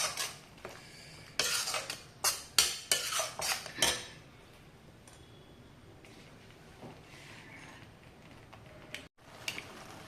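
Curry is stirred in a pan with a metal spoon, a run of sharp clinks and scrapes clustered near the start, then quieter sizzling frying sounds with a few more faint taps later.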